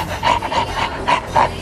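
A person imitating a dog with a rapid run of raspy, breathy panting bursts, close and loud, repeating rhythmically about five times in under two seconds.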